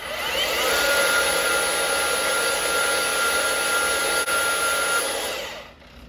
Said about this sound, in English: I'm going to bring these over here to the bandsaw now that they're on here, and I'm going to cut these off.